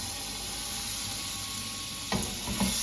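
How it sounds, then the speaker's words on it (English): Two tablespoons of butter hitting a still-hot pan with a little olive oil while making chicken piccata sauce, a steady close hiss of sizzling throughout, with a few soft clinks or stirring noises near the end. "We're gonna take 2 tablespoons of butter, and our pan's still hot."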